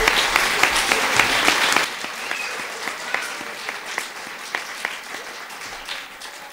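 Clapping from a yoga satsang audience, loud and dense at first, then quickly thinning to a softer, scattered patter of fewer hands, with a few sharp individual claps standing out.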